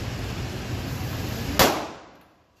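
Pistol fired at a shooting range, a single sharp crack near the end that decays quickly over steady background noise.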